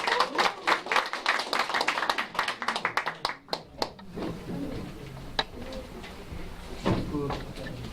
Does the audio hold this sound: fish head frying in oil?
no